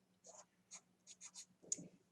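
A pen writes on paper, drawing a dot and lettering a map label in an art lesson: a few short, soft scratching strokes in quick bursts, very faint and close.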